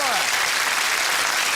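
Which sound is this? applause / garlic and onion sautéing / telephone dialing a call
applause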